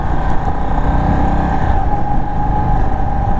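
A Sport Chief RT motorcycle engine drones steadily and loud during a test ride, with a constant roar and wind noise and no pauses.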